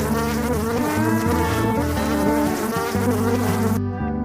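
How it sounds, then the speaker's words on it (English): A wasp buzzing loudly and close, a continuous droning hum with wavering pitch that lasts about four seconds and then cuts off, with no voices. "wasp,"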